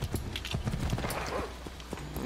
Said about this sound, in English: Sorry, it's just my horse.